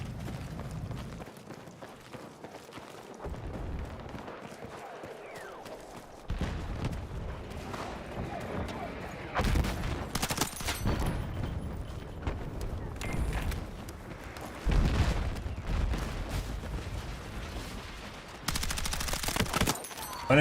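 Gunfire in the Battlefield 6 video game, long bursts of rapid automatic fire and dense fusillades with loud impacts, alternating with quieter stretches over about twenty seconds.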